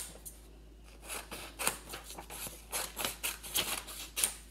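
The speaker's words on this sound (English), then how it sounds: "You can cut these into strips" Scissors snip through paper raindrop cutouts, slicing them into strips with a quick series of close, crisp cuts and light paper rustling, no talking.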